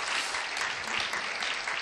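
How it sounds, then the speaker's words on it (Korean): A church congregation gives warm, continuous applause to its worship team during a Friday service, a dense and even patter throughout with no talking. "다시 한번 뜨거운 박수로 감사하겠습니다"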